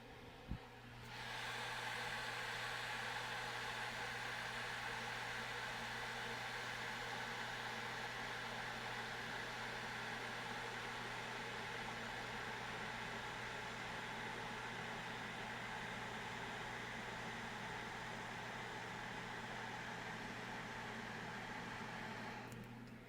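A baby bottle warmer whirs on with a click and runs as a steady, even hum and airy hiss for the whole stretch, then clicks off.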